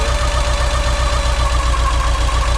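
A Porsche 944 engine idles steadily up close with its fuel pump disconnected, a low, even pulsing throb that keeps a regular beat and runs on without faltering.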